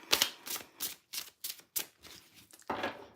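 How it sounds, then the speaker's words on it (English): A collage-style tarot deck shuffled by hand in a rapid series of papery riffles and slaps, close and fairly loud with short pauses between bursts, no talking. "I just need to do this little shuffle"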